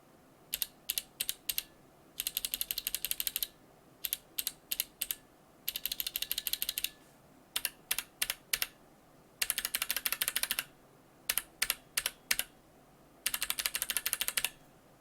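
A BOX Jade mechanical keyboard switch clicks, first bare and then with a keycap fitted. It comes as short bursts of crisp, rapid clicks separated by quiet pauses, close and clear with no talking.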